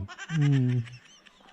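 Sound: rooster crowing at a guesthouse

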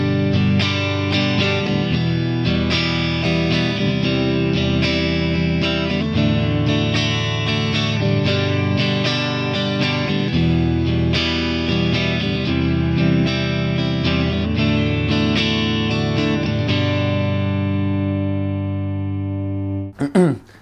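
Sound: strummed guitar chords

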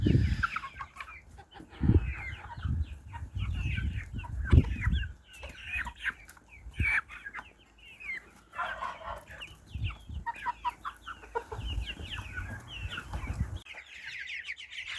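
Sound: chickens clucking in a farmyard

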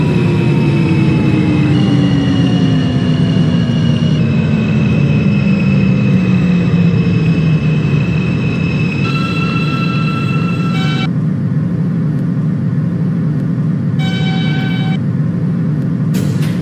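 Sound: R160 subway train running in OpenBVE train simulator video game

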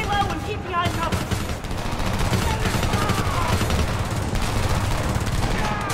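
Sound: gunfire from the video game Homefront

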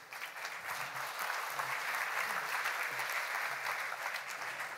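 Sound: audience applauding panelists taking seats

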